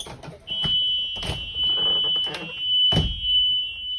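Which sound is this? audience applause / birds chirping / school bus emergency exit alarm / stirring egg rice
school bus emergency exit alarm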